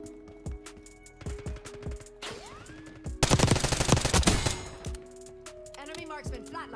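C9 submachine gun fire in Black Ops 6, a loud close burst of rapid shots lasting about a second, set among game interface tones, movement clatter and chirps, with a voice talking at times.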